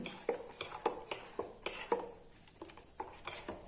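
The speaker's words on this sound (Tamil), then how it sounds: "நல்லா மிக்ஸ் பண்ணி விட்டுருவோம்." Spoon stirring dosa batter in a bowl, with a steady series of soft scraping and tapping strokes, close and fairly quiet.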